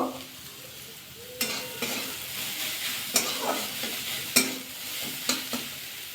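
Cauliflower florets fry with salt, turmeric and cumin powder in a pan, giving a continuous crackling sizzle with repeated scraping stirs and spatula knocks spaced every second or so, close and fairly loud.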